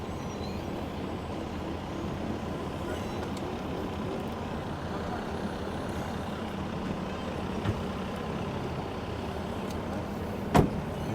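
A 2023 Ford Ranger driving off-road, its engine a steady low drone at a distance, with a couple of brief knocks near the end and no talking.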